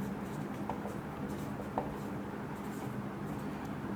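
Chalk or marker scratches out words on a classroom board during an accounting lecture, short faint strokes and taps in steady succession over a quiet room hum.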